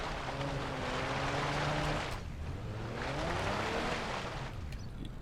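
The Hopper's engine revs hard as it climbs a rough, dangerous road in BeamNG.drive, a loud sustained whine that rises and falls in pitch over several seconds with no voices.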